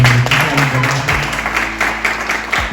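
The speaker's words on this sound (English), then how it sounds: "I would just like to give a big round of applause to our international panelists" An audience at a creator talk applauds panelists with loud, dense clapping that carries on throughout, and faint voices sound beneath it.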